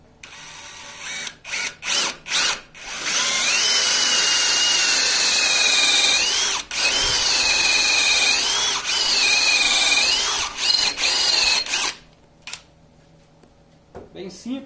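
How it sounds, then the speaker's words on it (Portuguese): A cordless screwdriver bores a hole in wood, a few short trigger bursts and then a long whining spin with a wavering pitch, stopping briefly and resuming before ending in clicks and handling noise. "Vai furar aqui, vou usar parafusadeira mesmo"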